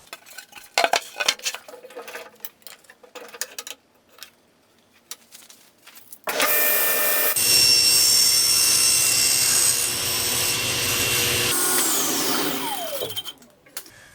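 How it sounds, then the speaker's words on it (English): A power saw with a sled trimming a piece of material to size: scattered handling clicks and knocks, then the motor roars up loud, runs steadily through the cut and winds down. "it's much safer to make these cuts first and then cut it down to size with our sled"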